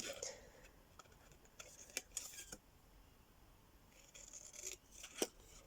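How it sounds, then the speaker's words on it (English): Squeaky scissors cutting card during papercraft box-making, giving a few short sharp snips and squeaks spaced across the stretch, fairly faint against a quiet room. "these scissors drive me mad when they squeak"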